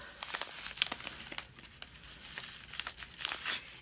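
Paper envelope holding a twill fabric project bag, torn open and crinkled close up in a run of rustling, crackling bursts with sharper tearing snaps, fairly quiet and with no talk.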